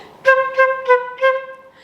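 Four short, detached flute notes, each with a crisp separate attack, played close and evenly spaced.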